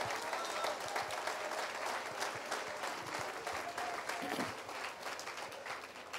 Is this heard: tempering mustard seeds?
no